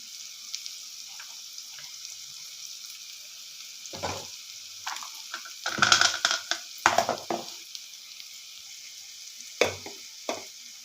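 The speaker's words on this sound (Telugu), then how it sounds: "చూడండి, బెండకాయ ముక్కలు ఆయిల్లో మంచిగా వేగాలి" Okra pieces frying in hot oil for a lady finger curry, with soft sizzling and bursts of stirring and scraping that cluster in the middle and return near the end, close and alone without talk.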